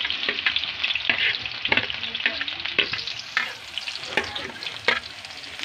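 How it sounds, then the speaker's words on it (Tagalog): Onion, ginger and garlic stir-frying in oil, giving a bright hissing sizzle with repeated scraping strokes of a spatula, close and fairly loud, with no one speaking. "Mix ra ni nako bombay, luya ug ahos."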